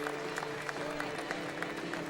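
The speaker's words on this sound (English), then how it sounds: "He'll get a nice hand from this crowd" Steady applause from a minor-league baseball crowd in Altoona as the starting pitcher leaves the mound, broad clapping wash holding an even level throughout with no clear voices above it.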